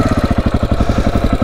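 A KTM 690 motorcycle engine thumps in a loud, steady, rhythmic single-cylinder beat close by while riding, with no voices.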